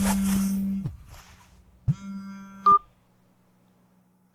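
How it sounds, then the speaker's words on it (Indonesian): Telephone signalling in a domestic drama scene, a few steady electronic tones in short separate pulses, the last one sharp and higher, between stretches of near silence. "sepertinya ada yang menelepon kamu."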